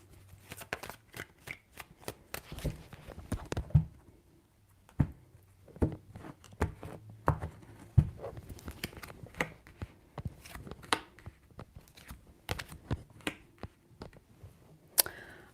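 Tarot cards shuffled by hand in a quiet room, a string of crisp riffling flutters and soft taps coming in uneven bursts, close and clear with no talk.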